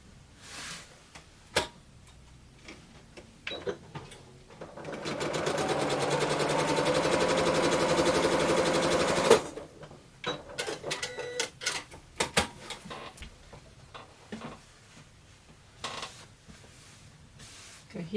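A sewing machine stitching quilt blocks runs in one steady, buzzing burst of about four seconds, framed by quieter handling clicks and rustles.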